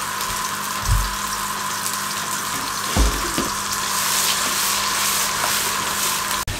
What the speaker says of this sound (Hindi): ये जो पेस्ट तैयार किया था इसमें शामिल कर दें और तकरीबन 4 से 5 मिनट तक अच्छे तरीके से भुनाई कर लें।